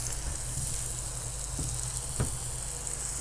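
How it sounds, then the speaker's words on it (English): Turkey burgers made with breadcrumbs and egg sizzle on a Pit Boss tabletop griddle, giving a steady close frying hiss with a couple of brief clicks and no talking. "Yeah, nice sizzle."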